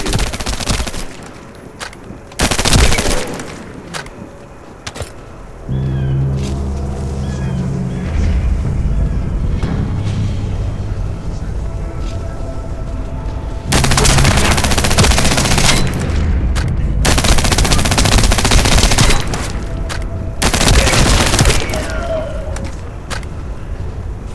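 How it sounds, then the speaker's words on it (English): Rapid turret gunfire bursts in The First Descendant, sustained loud machine-gun fusillades cutting in and out between quieter stretches of game ambience and musical score. "I'll operate turrets to keep the surrounding area secure"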